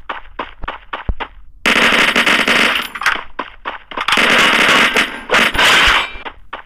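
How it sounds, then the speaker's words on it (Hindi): Rapid bursts of automatic gunfire from a Free Fire Max battle-royale match, starting as a string of short separate shots and then swelling into long, loud sustained volleys broken by brief pauses. "अभी एक बंदा और फायर कर रहा है"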